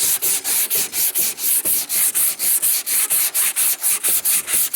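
Hand sanding plastic body filler on a car panel repair with 80 grit sandpaper, a rapid regular back-and-forth scratching rhythm of about four strokes per second, loud and close, with no talking.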